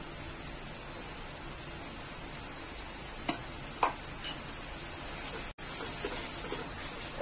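Okra and onion masala with cumin being stirred in a pan over high flame, a soft continuous sizzle with a few faint spoon scrapes and taps, fairly quiet and without talk.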